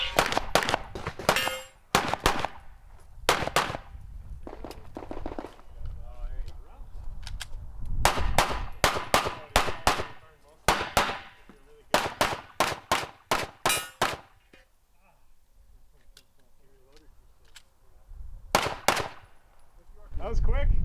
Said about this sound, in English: I saw you got a headshot on that steel target.